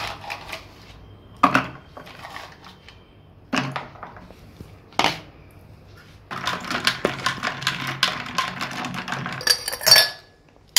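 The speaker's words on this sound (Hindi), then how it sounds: "तो आइस क्यूब डाल देते हैं इसके अंदर।" Ice cubes dropped into a glass of aam panna, a sour-sweet raw mango drink, giving sharp clinks and rattles: a few separate drops, then a longer stretch of dense clattering and clinking, close and fairly loud.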